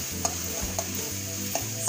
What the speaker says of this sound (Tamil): கொஞ்சம் ப்ரௌன் ஆகிற வரைக்கும் ஃப்ரை பண்ணிக்கலாம்